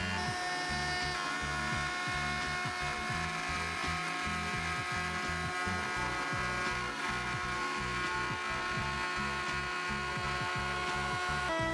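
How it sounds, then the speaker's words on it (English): A wood router making a final finish pass with a 3/4 inch round-over bit on the ends of a modern plant table, a steady whirring motor hum with a sustained high whine running continuously and fairly loud, no talking. "I took the router for a final pass"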